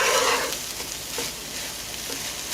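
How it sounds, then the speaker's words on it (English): A fruit and raisin mixture cooks in a pan for chiles en nogada, giving a steady close sizzle with soft stirring scrapes, loudest at the start and then settling into an even frying hiss. "I'm going to continue to cook it for another 2-3 minutes because I want my raisins to be super soft"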